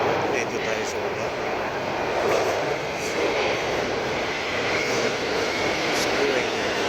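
Inside a moving train in Canada, a loud steady rumble and rushing roar of the carriage fills the whole stretch, with a faint hiss high above and no distinct breaks.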